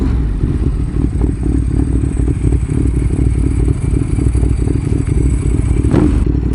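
A Ducati Monster motorcycle rolling over gravel, a loud, close, continuous low engine rumble mixed with crunching and clattering stones, steady throughout with a brief sharper scrape near the end.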